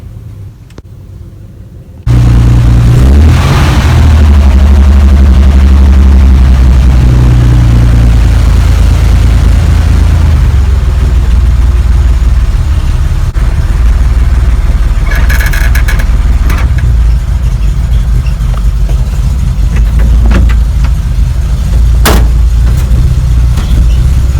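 A 1976 Chevy Monte Carlo classic car's engine roars to life after a brief quiet moment, then holds a loud, steady low rumble as it drives, with no talk over it.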